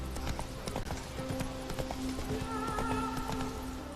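Geralt's horse Roach galloping in The Witcher 3: Wild Hunt, a rapid rhythmic clatter of hooves close by, running steadily throughout over a low background hum.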